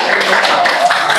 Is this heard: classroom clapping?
yes